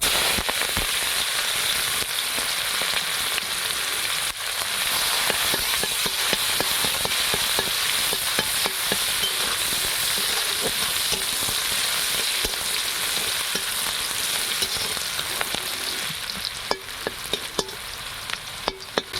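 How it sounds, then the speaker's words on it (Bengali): Onions sizzle steadily in hot oil in a pan with nigella seeds, a dense crackling hiss with small spatters and stirring scrapes, close and continuous with no talk. "পেঁয়াজটা একটু ভাজা ভাজা হয়ে যাক"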